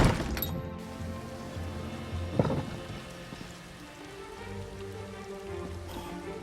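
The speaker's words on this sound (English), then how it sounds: "What about the rain?" Steady rain patters in the Elder Scrolls Online game world, a continuous hiss with a sharp crack early on and a low rumble underneath, while a soft musical drone lingers beneath the downpour.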